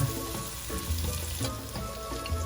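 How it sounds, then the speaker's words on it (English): Onions fry in a pan with a continuous soft sizzle and faint crackle, close and even throughout, with no voices. "You want to fry it until your onions start to get slightly brown."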